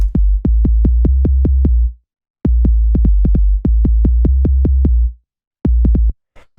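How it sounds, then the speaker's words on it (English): Deep 808 bass hits from a ghetto electro track, walking up a simple line: loud booming notes in quick repeated bursts of eight or so, separated by short gaps, with no voices. "The first sound we have here is this 808, which sounds like this."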